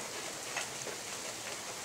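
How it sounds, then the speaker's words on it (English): Rain pours down steadily in a dense, continuous hiss of drops striking surfaces, heavy and even throughout, with no voices. "It's raining harder."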